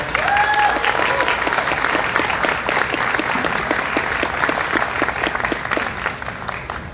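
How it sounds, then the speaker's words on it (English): A crowd at the York State Fair gives sustained applause for a contestant in a pageant-style competition. The clapping is loud and steady for the whole stretch, with a few whistles or cheers rising above it. "let's give her a round of applause"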